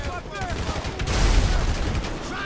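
Gunfire in GTA 5 heard as a dense, rumbling volley of shots swelling in the middle and fading slightly, fairly loud and close, with a voice speaking over it.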